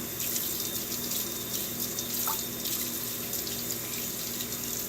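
Tap water runs steadily while soap is rinsed off a ferret during its bath, a close, constant splashing flow into a sink with no speech.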